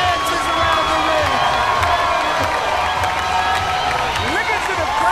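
A crowd at a boxing match roars and cheers steadily for the winning fighter, a dense continuous wall of shouting and applause with no pauses.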